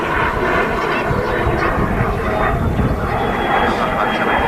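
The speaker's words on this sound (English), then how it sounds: "That BizJet rotating very early there." A business jet taking off at Manchester Airport on a windy day gives a loud, continuous jet roar with a faint rising whine, while voices talk over it.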